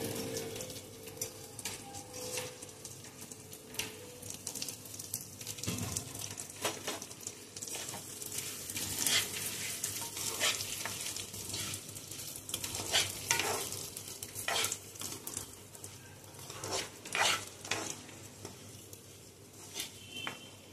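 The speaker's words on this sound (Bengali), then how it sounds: "দেখুন আমি চালটা একটু ভেজে নিচ্ছি, চালটা অল্প একটু ভাজা হোক" Uncooked rice fries in a hot pan for pulao while being stirred, giving a steady soft sizzle broken by repeated scraping stir strokes throughout, with no talking.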